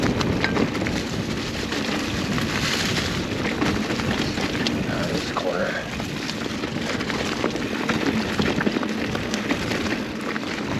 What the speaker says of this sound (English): the rain got a little light there